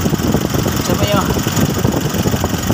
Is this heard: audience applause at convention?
no